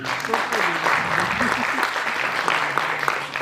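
Loud, sustained applause from an audience at the Amar Kala Mahotsav 2022 arts festival, greeting the organizer brought from Ahmedabad, with a voice speaking over the clapping.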